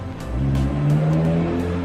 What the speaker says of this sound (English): you hear that sports car? I live in the middle of nowhere, who's driving around here?